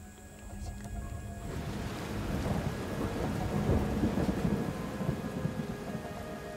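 Violent early-morning thunderstorm in the forests of Papua, with heavy rain hissing steadily and low thunder rumbling and building after a quieter opening, loud and enveloping.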